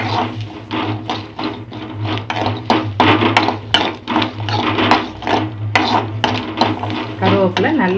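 Curry leaves and garlic sautéing in a pan, heard as dense, loud scraping and clattering of a spatula against the metal, with rattling strokes over a steady low hum.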